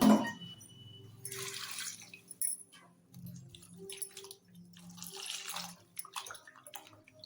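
Water poured from a vessel into a cooking pot while making mutton trotter paya, heard as two close, splashing pours with a short gap between them and faint dripping after.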